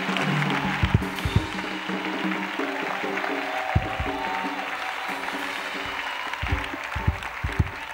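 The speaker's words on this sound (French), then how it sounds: "Clap offering to Jesus." Church congregation clapping as an offering to Jesus during a combat prayer service, sustained clapping with sharp louder claps and percussive hits standing out over tonal music or voices in the background.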